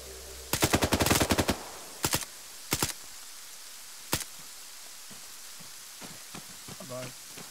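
Video game gunfire in Operation: Lost Missions: a rapid burst of automatic fire, followed by a few short double shots and a single crack, then quiet with faint distant noises.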